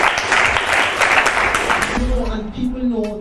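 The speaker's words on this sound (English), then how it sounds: "round of applause." Audience applause at a reggae event honoring Skip Marley and three generations of performers, a dense wash of clapping for about two seconds that fades as a voice begins talking over it.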